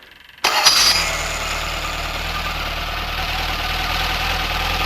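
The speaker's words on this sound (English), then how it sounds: "I hit the ignition" Porsche 912 engine cranks and fires after a short silence, catching with a loud burst then settling into a steady, rough idle close by.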